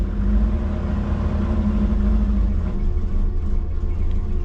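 A twin-turbo Subaru Forester engine cold starting, its idle a loud, rough low rumble that holds steady close by.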